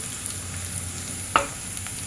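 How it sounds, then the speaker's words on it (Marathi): Chopped garlic frying in oil over a medium gas flame for a dal tadka gives a soft, steady sizzle, with one sharp stirring clink partway through and no voices. "लसूण चांगली गोल्डन करून घेऊया"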